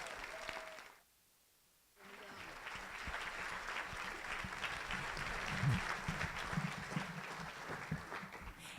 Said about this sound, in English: Let's have another round of applause for these students.